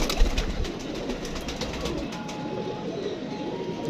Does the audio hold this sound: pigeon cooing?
yes